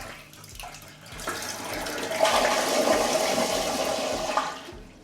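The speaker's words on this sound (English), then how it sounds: "I'm gonna flush the toilet." A smart toilet flushing, a rising rush of water sweeping around the bowl and draining away, loud and close for several seconds before tapering off.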